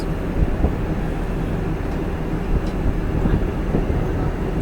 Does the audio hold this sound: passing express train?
yes